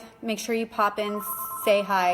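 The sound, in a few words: landline telephone ringing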